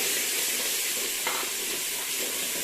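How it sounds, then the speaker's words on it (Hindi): Tomatoes hitting frying masala in a pan for a Pakistani aloo gobhi gosht curry, giving a steady, close, loud sizzle with faint stirring scrapes throughout. "इसके बाद क्योंकि ये नीचे लग रहा है मसाला तो हम इसके अंदर ये टमाटर ऐड कर देंगे"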